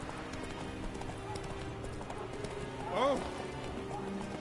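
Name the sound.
horse Roach galloping in The Witcher 3 video game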